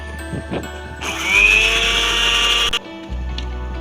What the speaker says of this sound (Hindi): अब हम इन सब चीज़ों को जो है वो अच्छे से ग्राइंड कर लेते हैं।